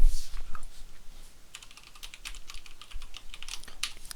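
Computer keyboard typing while cut and paste shortcuts are entered, a run of close, crisp key clicks with short pauses, louder toward the end, no voice.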